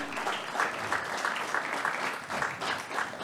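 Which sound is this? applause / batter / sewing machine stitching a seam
applause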